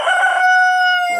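Inside a chicken coop a rooster crows once, close and loud, a single sustained harmonic call that rises sharply and then holds before breaking off.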